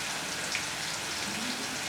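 Jackfruit pieces deep-frying in hot oil on a stove at medium flame for crisp jackfruit chips, giving a steady, dense crackling hiss that stays even throughout, close and moderately loud with no voices.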